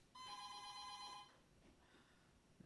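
An old house phone rings with one sustained electronic trill lasting about a second, loud and clear, followed by quiet room sound.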